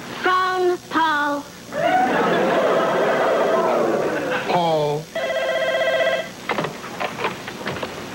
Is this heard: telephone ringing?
yes